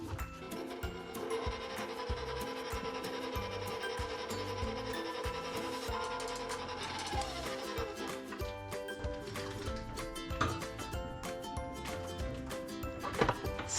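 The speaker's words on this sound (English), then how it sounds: "Scrape down the sides of the bowl." A spatula scraping down the sides of a mixing bowl holding cream cheese and whipping cream for a no-bake blueberry cheesecake, a soft continuous rubbing and rasping that runs steadily throughout, close and fairly quiet, with no talk.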